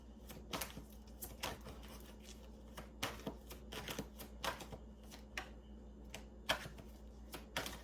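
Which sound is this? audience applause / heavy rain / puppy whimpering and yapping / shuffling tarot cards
shuffling tarot cards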